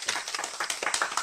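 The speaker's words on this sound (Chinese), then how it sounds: "鼓掌啊！ 鼓掌，鼓掌。" A small group claps in an uneven patter of about a dozen hand claps, fairly close and modest in volume, with no voices.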